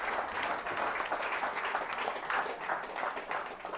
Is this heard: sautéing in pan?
no